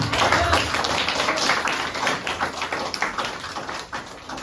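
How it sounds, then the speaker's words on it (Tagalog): A church congregation claps for the Lord during a morning service. The applause is brisk and sharp, with many hands hitting close together, and it stays fairly loud before thinning slightly near the end. "Isa nga pong malakas na palakpak sa Panginoon."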